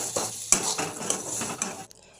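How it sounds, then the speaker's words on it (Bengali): A metal utensil scrapes and clinks against a kadai several times in quick succession over soft sizzling, then stops. "এবার আমি একটু নেড়ে চেড়ে নেবো।"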